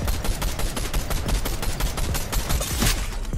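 Dense, continuous gunfire from a Fortnite Reload ranked match, rapid automatic bursts and overlapping shots running without a break at close, loud range.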